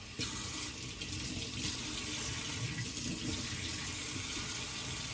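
A kitchen tap runs steadily into a sink, a constant rushing splash of water heard close and alone.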